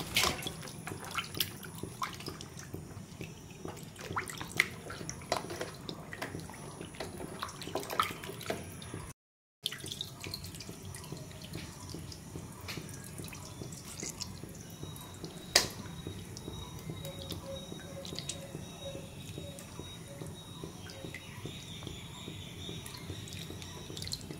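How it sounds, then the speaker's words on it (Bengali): Goat meat is rinsed under running water, a faint, steady trickle and splash with scattered drips and clinks, close and low in level, no voices. "অল্প করে খাসির মাংস নিয়ে এসছে, সেটাই এখন ধুয়ে নিচ্ছি।"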